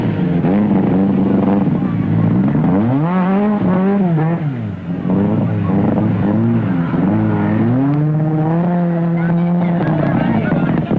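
Works Ford Escort rally cars at the 1972 East African Safari Rally roar past, engines revving and changing pitch in loud rising and falling sweeps, with several cars heard in succession.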